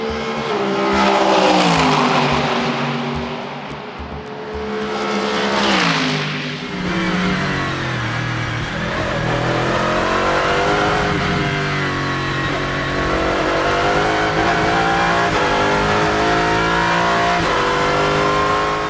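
Race cars howl past at speed during FIA WEC qualifying at Imola, engines swelling loud as they approach and fading as they pass, then a sustained, shifting roar of another car accelerating toward the line.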